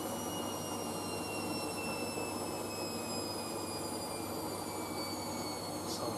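Hoover SIX AAA160 Whisper 1600 washing machine drum winding down after a spin: thin whining tones glide steadily lower over a constant rumbling hum, close and unbroken.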